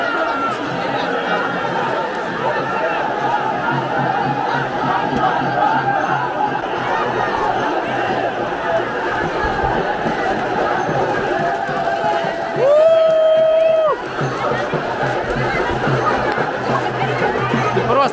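Large, dense festival crowd hauling an ancient cart through the streets during Mahashivaratri in Goa, India: constant close, loud chatter and shouting from many people, with a brief sustained horn-like tone rising above the din near the end.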